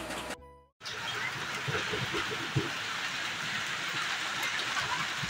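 Heavy rain from a sudden storm pours down steadily and loudly, a dense continuous hiss of drops on surfaces after a brief silence at the start, with no voices.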